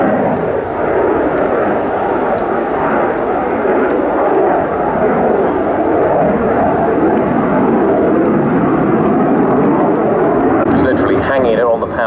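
A Saab JAS-39C Gripen fighter jet performs an air display at the Royal International Air Tattoo, its engine a loud, continuous roar throughout, with a commentator talking over it.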